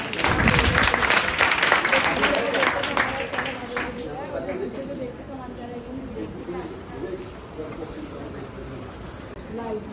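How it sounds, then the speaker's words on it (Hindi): Schoolchildren in a physics class clap their hands together in a burst of sharp, rhythmic claps that fades after a few seconds, giving way to a teacher and students talking. "ताली बजाओ"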